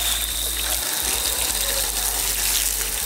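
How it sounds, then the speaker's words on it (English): Water from a hose or tap rinses charred wooden seed trays, a steady loud continuous spray and splatter close by without talk. "See, just hitting them with a little bit of water."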